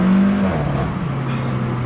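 An Alfa Romeo 4C with its 1.75 turbocharged engine drones steadily and close, the tone dropping briefly as it shifts, with no talking.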